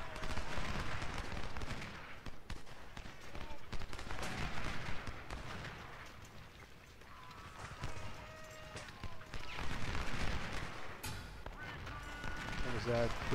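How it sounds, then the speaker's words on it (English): Musket volleys crackle in the Ultimate General: Civil War video game, with bursts of massed gunfire and hoofbeat-like clatter rising and falling over a continuous battle din, while a player talks. "Get a good volley off on him."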